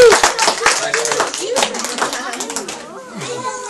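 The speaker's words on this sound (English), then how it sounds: "Give them a big round of applause." Children and adults clap in lively applause at a birthday magic show, close and loud at first then thinning, with excited young voices chattering and calling out over it.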